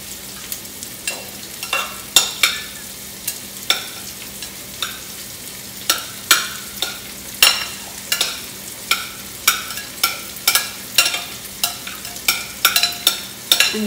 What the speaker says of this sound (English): we're going to dump in our onions and fennel